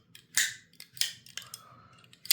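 A few sharp metallic clicks and snaps close by, like a folding knife blade flicking open and locking, with a faint rasp in between.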